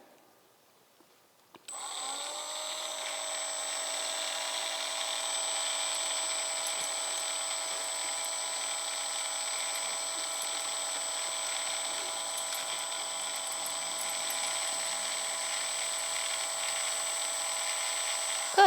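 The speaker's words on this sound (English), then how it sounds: "try to get the nails trimmed up and get him used to his paws being held" A power tool grinds down a dog's nails during a trim. It starts after a short quiet moment, then runs as a steady, high-pitched whine at constant loudness right up close.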